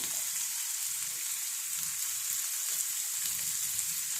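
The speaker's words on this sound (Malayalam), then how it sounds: "ഇത് നല്ലപോലെ അങ്ങ് വഴച്ചെടുക്കണം" Onions sautéing in a pan for a spiced cassava dish, a constant bright, even sizzle heard up close with soft stirring underneath and no voices.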